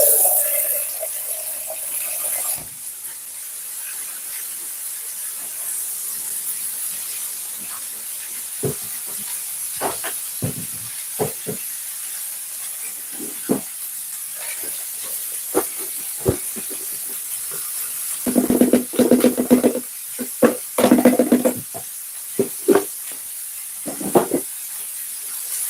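Water poured into a hot pan bursts into a loud, steady steam hiss. The hiss holds for a long stretch while scattered clicks, scrapes and bubbling pops of cooking sound beneath it, and no one speaks.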